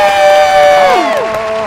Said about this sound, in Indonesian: Yes, tepuk tangannya dulu deh.